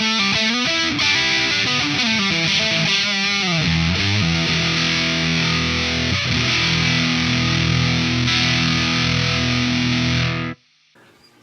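Electric guitar through a Lunastone Red Fuzz 1 pedal with the fuzz control fully up, heavily saturated, plays a descending line into a long, dense sustained chord, loud and buzzing, then cuts off abruptly at the end.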